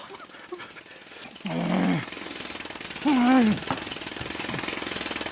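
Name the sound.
hammering and drilling noise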